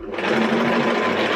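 A sewing machine runs steadily and close, stitching along a seam of a quilt in one continuous whirring hum.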